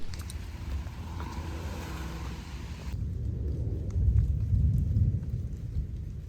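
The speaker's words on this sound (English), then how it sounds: "It's still lightning and thundering." A low, distant rumble of thunder rolls in and swells midway, over a soft hiss of rain, during a summer storm on the Appalachian Trail.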